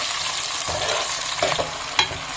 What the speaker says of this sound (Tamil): வெந்தயம் சிவந்ததும் சின்ன வெங்காயம் நல்லா சிவப்பாக வதக்கிட்டு